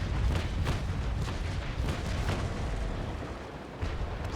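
A naval cannon broadside from the Niagara in the Naval Action battle rolls out as a dense string of booming shots, merging into a loud rumbling barrage that holds and slowly eases over several seconds.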